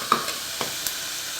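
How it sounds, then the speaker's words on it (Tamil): Tomatoes are sautéed in a pan for chicken biryani, giving a brief, close sizzle broken by a few quick scrapes of the spoon. "டொமேட்டோவோட சேர்த்து நம்ம நல்லா ஃபுல்லாக வதக்குறோம் ஃப்ரெண்ட்ஸ்."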